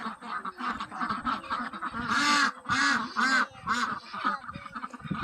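Several Saxony ducks quack and honk in bursts, loud and close, with a few louder calls overlapping in the middle.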